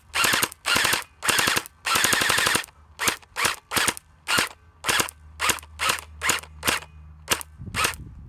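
A JinMing M4A1 Gen 8 gel blaster fires on full auto, giving sharp rattling bursts followed by a rhythmic string of about a dozen single cracks, loud and close, with no talking.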